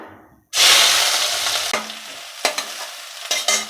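Red onions drop into a hot pan with a sudden loud burst of sizzling, then frying continues steadily while a spoon scrapes and stirs in short, uneven strokes.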